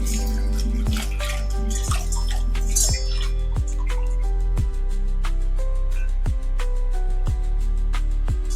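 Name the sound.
washing garlic cloves under water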